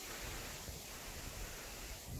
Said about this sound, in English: Nice and windy.